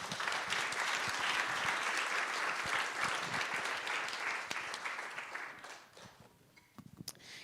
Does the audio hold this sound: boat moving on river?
no